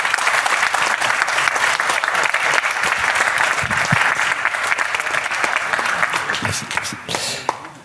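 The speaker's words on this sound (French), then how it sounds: "Merci Duril, on peut encore l'applaudir." Lively audience clapping at a startup pitch event fills the room, a dense, steady roar of many hands that stays loud and begins to taper off in the final second.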